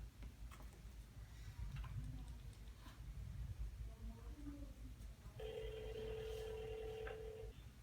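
A phone line clicks and ticks faintly, then a steady ringback tone sounds for a couple of seconds over quiet background hum.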